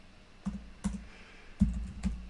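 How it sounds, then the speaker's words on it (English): Clicking keystrokes on a computer keyboard, typed close up in short uneven bursts of a few taps each, with brief pauses between them and no talking. "My typing skills are not that great."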